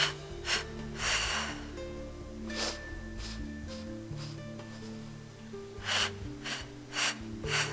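During a Pilates breathing exercise, a slow series of audible inhales and exhales rises and falls in a steady rhythm, close and fairly soft, with breathy bursts and faint shuffling and no speech.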